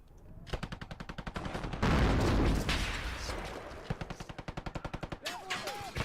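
Rapid bursts of automatic gunfire fire from a building window in the war strategy game WARNO, sharp repeated cracks in quick rhythmic strings with a louder blast-like swell in the middle, with someone talking faintly underneath.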